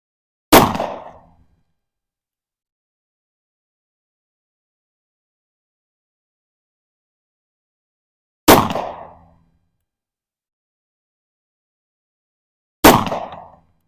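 Three sharp, loud pistol shots from a Smith & Wesson M&P M2.0 10mm at an outdoor range, fired singly with long pauses between, each with a short echoing decay.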